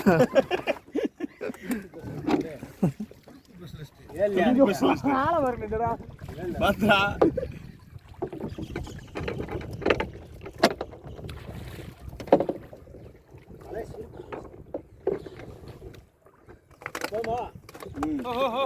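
Small fishing boat being pushed off and rowed across a freshwater pond, with water sloshing and knocking sounds mixed under steady nearby talk and breezy wind.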